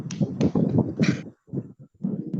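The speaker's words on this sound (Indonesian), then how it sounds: "Kita kasih aplaus untuk Safriyati ya." Students in a classroom give a brief round of applause for a classmate, a close patter of claps in short bursts with a pause midway.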